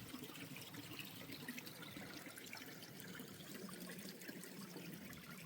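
Spring water trickles steadily out of the ground along the Appalachian Trail in North Carolina, a soft continuous dribble and splash heard close and quiet, with no voices.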